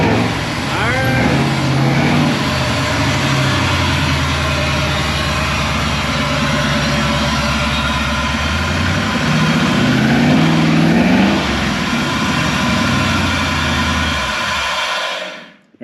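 A 1957 Chevrolet station wagon, put back together after years of sitting, idles rough just after a cold start. The engine holds a loud, close, steady rumble with a brief rise near the end before it cuts off abruptly.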